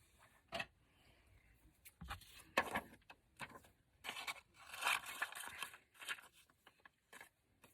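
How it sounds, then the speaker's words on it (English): Scissors snip and scrape through paper for a junk journal craft in short, close bursts with pauses between cuts, with no talking. "So let me get a pair of scissors."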